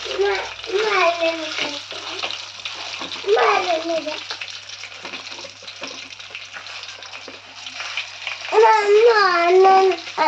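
Fish pieces fry in a pan on a gas stove, giving a steady, soft sizzling hiss beneath a voice speaking at intervals.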